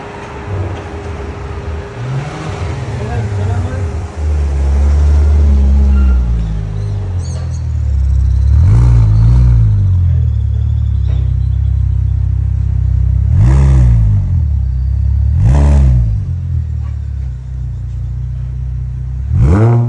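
A Porsche Panamera 3.6 fitted with a remote-controlled performance exhaust idles with a deep, steady rumble, then gives three sharp, loud revs that rise and fall, heard up close.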